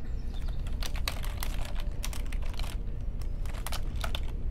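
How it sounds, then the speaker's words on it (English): Someone types on a computer keyboard during an online Rise of the Runelords tabletop game session, entering dice rolls: close, quick bursts of clicking keystrokes over a steady background hum, with brief pauses between runs. "I keep typing it in wrong"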